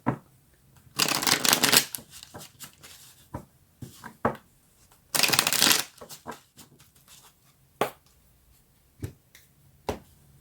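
Tarot cards are shuffled in two long riffling bursts, surrounded by softer taps, snaps and card handling, close and dry with no voices.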